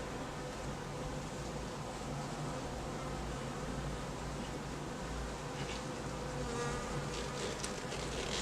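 Honeybees buzzing steadily during a hive inspection of an Alaska rainforest beehive, a dense continuous drone close to the open hive with no talking.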